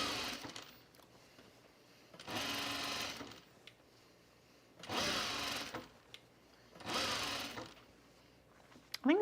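Sewing machine stitching shirt seams in short bursts: three runs of steady, even motor whir, each a couple of seconds long, separated by quiet pauses with faint handling noises, close and clear.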